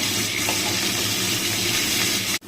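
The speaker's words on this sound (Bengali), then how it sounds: "দেখো বন্ধুরা মাছগুলো ভাজছি" Flour-coated fish fry in hot oil, a loud, dense and steady sizzling hiss held close throughout, ending in a sudden brief cut.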